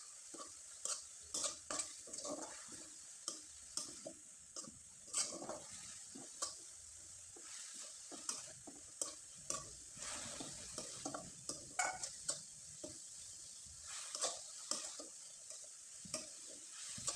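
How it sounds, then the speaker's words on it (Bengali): Coconut filling cooked down with jaggery in a pan, a spoon scraping and stirring in steady repeated strokes over a soft frying sizzle, close and fairly quiet with no talk. "নারকেলের পুরটা আমি খুব ভালোভাবে তৈরি করে নিলাম, একবারে শুকনো করে তৈরি করে নিলাম।"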